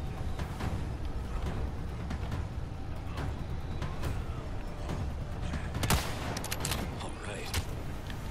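Gunfire in Resident Evil 4: repeated sharp shots crack over a busy, rumbling game mix, spaced irregularly, with a louder burst of several quick reports near the end.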